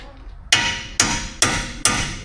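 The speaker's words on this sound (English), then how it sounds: "Claw hammer." Claw hammer blows ring out in an auto body shop during collision repair on an AWD Jeep Compass, four loud sharp metallic strikes spaced about half a second apart, each with a short ringing decay.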